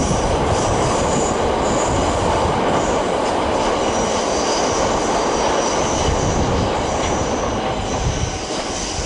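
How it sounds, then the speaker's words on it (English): A Gatwick Express train rushing past at Clapham Junction, a loud continuous roar of wheels and rails filling the whole stretch, close and steady with no voices. "Meanwhile, there's a Gatwick Express service."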